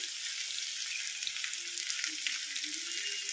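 Thinly sliced carrots sizzle in hot oil in a pan, a steady, bright frying crackle that runs continuously with no voices.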